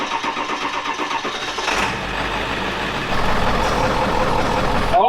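A 7.3 diesel engine on a custom off-road 4x4 bus cranks and catches, rising into a loud, steady near idle that stays strong to the end.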